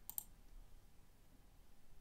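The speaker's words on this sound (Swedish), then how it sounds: "klicka sedan på spara" A computer mouse gives a couple of soft, quick clicks right at the start, pressing save in the Canvas web course tool, then faint quiet room tone follows.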